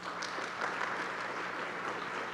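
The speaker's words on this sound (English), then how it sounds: "give them a round of applause." Applause at the opening ceremony of Houston Energy and Climate Week: a brief, even patter of many hands clapping in a large room, moderately loud and unbroken, with no speech.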